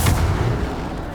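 A Bombarda spell explosion in the video game Hogwarts Legacy lands as a single loud, deep boom at the very start, then fades away into a rumbling tail.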